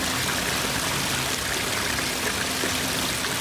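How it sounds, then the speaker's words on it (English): Water from a waterfall in a koi pond garden pours and splashes steadily, a close, continuous rushing hiss with no talking. "Feel by a streaming waterfall."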